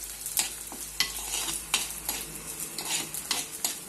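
Ginger and garlic sautéing in hot oil with green chillies and curry leaves, a steady close sizzle punctuated by several sharp scrapes and stirs of a spoon against the pan.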